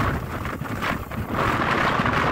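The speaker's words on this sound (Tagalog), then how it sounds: "Headwind, no? Narinig nyo yung hangin," Strong headwind while cycling, gusty wind buffeting the microphone in rushing, uneven surges that swell louder toward the end, with no voices.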